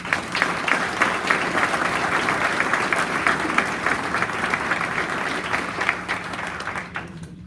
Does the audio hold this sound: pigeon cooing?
no